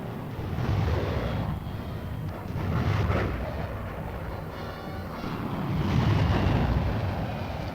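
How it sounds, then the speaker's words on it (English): A military aircraft flies low on a bombing run in support of ground troops, heard as a steady, loud, wind-blown engine roar that swells and fades in waves with no speech. "Low-level bombing in support of ground troops makes the job of the infantryman much easier."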